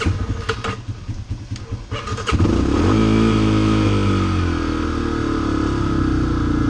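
A motorcycle engine running on old gas with a gummed-up carburetor, a loud uneven sputtering crank that catches and settles into a rough, steady running drone.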